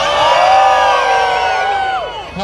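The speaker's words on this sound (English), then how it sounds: "Can we have a cheer for your favourite bird down this side?" A crowd at a ferret racing event cheers, whoops and shouts loudly and continuously for a favourite ferret, with children's high voices prominent and the noise slowly fading toward the end.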